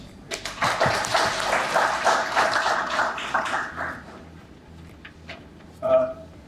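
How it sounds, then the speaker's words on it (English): An audience at a media launch for an e-waste collection project applauds in a steady, dense round of clapping lasting about three seconds, which then tapers off into room noise with a brief voice near the end. "Another round of applause"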